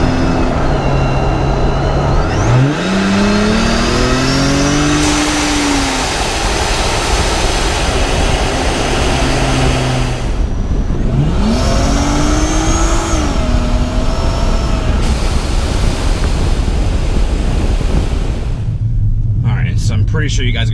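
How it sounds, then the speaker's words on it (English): Supercharged V6 car engine with a blow-off valve and aftermarket exhaust, roaring loudly and continuously, pitch sweeping upward as the revs climb, with brief drops between pulls. "you're really going to hear the engine, and you're going to really hear that supercharger and that blow-off valve release that air there"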